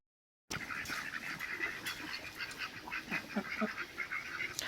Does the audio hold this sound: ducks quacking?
yes